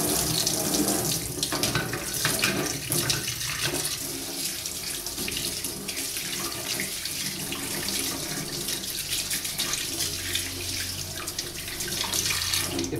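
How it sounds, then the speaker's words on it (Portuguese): Printed circuit board rinsed under running tap water after acid etching, a steady continuous rush and splash of water into a sink, close and loud throughout with no talk. "agora a gente vai tirar do ácido e vai lavar essa placa em água corrente"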